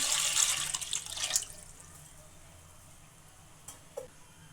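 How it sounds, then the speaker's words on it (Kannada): Water splashes and pours into a pressure cooker on a stove for about a second and a half, then fades to quiet room hiss with a couple of faint clinks. "ಕುಕ್ಕರ್ ಇಟ್ಕೊಂಡು ಸ್ಟವ್ ಹಚ್ಕೊಂಡಿದ್ದೀನಿ ಒಂದು ಅಷ್ಟು ನೀರು ಹಾಕ್ತಾ ಇದ್ದೀನಿ ಈಗ"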